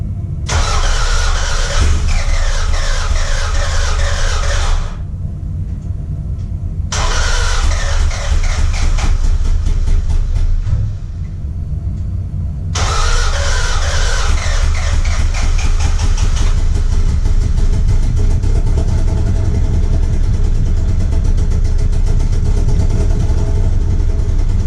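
An old, high-mileage car engine that smokes above 3,500 rpm cranks hard and struggles to catch in loud, rough bursts broken by short pauses, then fires and settles into a rough, steady cold idle.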